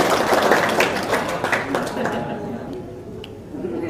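A small group of people claps for a few seconds at a gathering, loudest at first and then thinning out to scattered claps as the applause fades.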